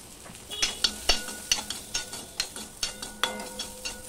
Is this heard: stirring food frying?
yes